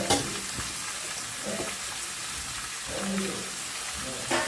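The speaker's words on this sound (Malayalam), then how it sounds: "ബീൻസ് ഇട്ട് നല്ലവണ്ണം ഇളക്കി" Beans stirred in a hot pan for a Kerala-style chicken biryani, a steady soft sizzle broken by a few scraping stirs of the spoon, close and fairly quiet with no talk.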